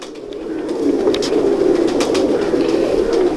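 Pigeons coo nearby in a steady, overlapping murmur of low throaty calls, loud and continuous throughout.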